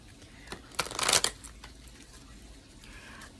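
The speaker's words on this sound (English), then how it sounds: "I'm just going to do a shuffle." A deck of oracle cards is shuffled by hand, a brief flurry of riffling card flicks lasting about a second, close and clear in a quiet room.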